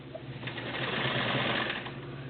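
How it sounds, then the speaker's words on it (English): A Kenmore 1652 sewing machine runs a straight stitch along a jeans hem, giving a steady, close, continuous mechanical whir with a fast even needle rhythm that holds at constant loudness throughout. "sew this straight stitch on this jeans hem without worrying about the toes of the zigzag foot catching on the edge of my fabric"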